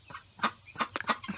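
A pet turkey making short soft clucks and peeps, several brief calls at close range in a quiet setting.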